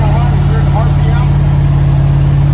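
Square body truck engine cruising at about 3,100 RPM near 60 mph, a steady loud cabin drone with a strong low hum throughout, and a voice talking over it.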